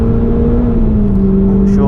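Loud onboard engine note of a Renault Clio Sport racing car on a wet Oulton Park circuit, a steady droning tone that dips slightly as revs ease, with a short hiss near the end.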